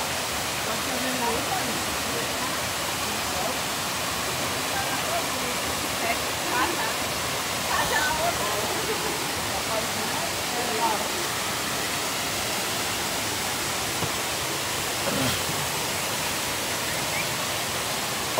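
Steady broadband roar of the Cachoeira do Paraíso waterfall in Guaiuba, Ceará, Brazil, continuous and fairly close, with faint voices now and then beneath the rushing water.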